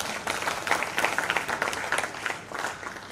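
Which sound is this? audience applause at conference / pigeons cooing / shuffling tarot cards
audience applause at conference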